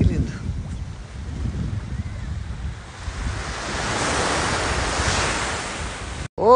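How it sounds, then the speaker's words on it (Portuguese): Sea waves washing onto a beach on a sunny but cold day, a broad continuous roar of surf that swells louder midway, mixed with wind buffeting the microphone. "Só pra curtir mesmo, ouvir barulho do mar."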